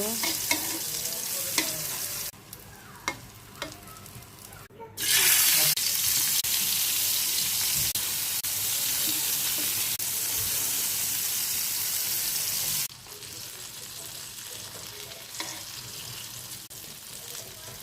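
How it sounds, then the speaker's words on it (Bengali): Steady broadband sizzling of raw green tomatoes frying in hot oil, loud and close, with occasional stirring scrapes and a brief louder burst midway. "ভালো করে লাল করে ভেজে নেব"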